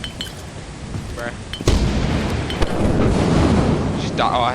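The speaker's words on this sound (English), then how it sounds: "I saw the lightning kind of hit close to you" Thunder from a lightning strike in a video game: a loud, close crack and rumble bursts in partway through and rolls on steadily to the end, with faint voice-like sounds in the mix.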